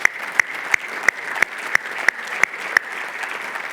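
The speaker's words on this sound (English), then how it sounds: "Let's give them a round of applause." An audience at a corn and soybean conference claps steadily, filling the room with loud applause and a few sharp accents, and no voice is heard over it.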